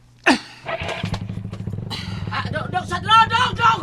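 A motorcycle engine idling and revving nearby, a low steady putter under excited shouting voices that dominate throughout.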